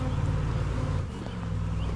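Honey bees from a massive hive inside an apartment buzz continuously and close, a dense low drone.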